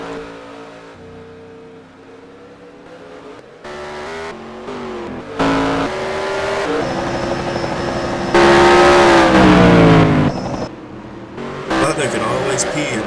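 NASCAR stock cars pull off pit road in NASCAR Racing 2003, with engines revving and climbing in pitch through gear changes and sudden cuts between louder and quieter passages, while a commentator talks over the engine noise.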